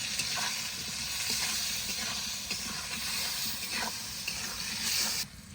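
Potatoes frying in hot oil in a pan give a steady, close sizzle with stirring scrapes and hiss running throughout, then cut off abruptly near the end.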